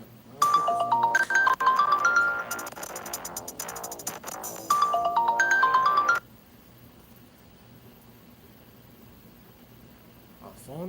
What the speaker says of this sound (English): a phone call in the middle of my live stream